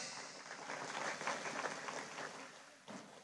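Scattered applause from an audience at an Islamic sermon gathering in Bangkes, Kadur, Pamekasan, a fairly faint, steady patter of clapping swelling slightly mid-way, then fading before a brief final burst.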